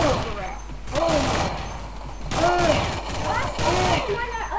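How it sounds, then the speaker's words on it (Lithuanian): Rapid gunfire from the Counter-Strike multiplayer game crackles in bursts across the clip, mixed with game effects while a player talks excitedly over it. "Mane iš keturių pusių šaudo"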